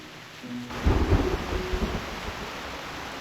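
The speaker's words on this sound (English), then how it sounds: "What a heavy rain outside!" In the video game Reverse: 1999, a deep thunder rumble swells after a steady hiss of rain, then settles back into continuous downpour.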